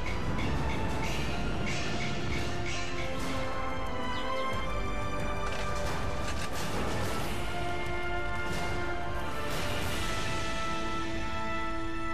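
A train running on a dedicated railway line at Changbai Mountain, its steady rumble and clatter close and loud throughout, with music playing over it.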